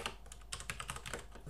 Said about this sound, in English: forgive my typing